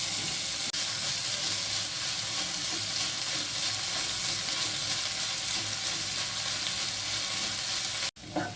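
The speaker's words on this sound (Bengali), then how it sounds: "গ্যাসের হিটটা কম করে দিয়ে বেশ অনেকক্ষণ ধরে লাল লাল করে ভাজাটা করতে হবে।" Onions sizzle steadily in oil in a pan alongside bitter gourd, a constant close frying hiss that runs unbroken before cutting off abruptly near the end.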